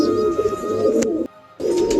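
A male Maksi pigeon coos steadily at close range, a low warbling call that runs for about a second and a quarter, breaks off into a brief silence, then resumes.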